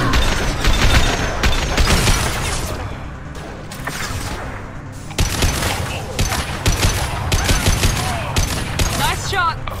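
Gunfire in Mass Effect 2 on Insanity difficulty, with dense bursts of shots and sharp impacts running nearly throughout, loud and close, over a rumbling combat backdrop with game voices talking.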